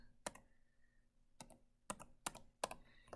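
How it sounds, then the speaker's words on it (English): Someone types an ISBN on a computer keyboard, bursts of sharp key clicks spaced across the moment, close and fairly quiet with no talking. "So I'm going to just type this in without dashes,"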